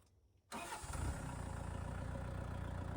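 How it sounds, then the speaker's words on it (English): A tractor engine cranks and catches after a brief quiet moment, then settles into a steady, loud rumbling run. "I'm going to start the tractor."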